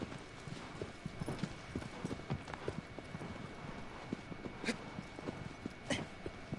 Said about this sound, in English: I don't need carrots to make my horse go faster.